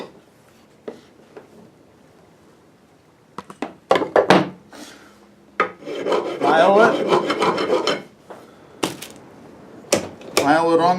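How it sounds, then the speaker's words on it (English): A hand file rasps burrs off metal fence hardware in loud, close scraping bursts, with scattered knocks and clinks between strokes and a longer run of filing in the middle. "File it on the other side."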